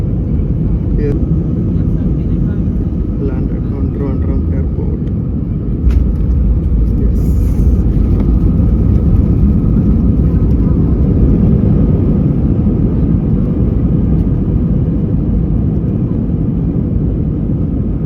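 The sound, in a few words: airplane landing at Trivandrum Airport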